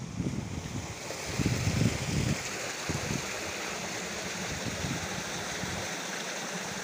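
A stream fed by a waterfall runs near Iguape, giving a constant broadband rush of flowing water. Brief low wind buffets sound early on.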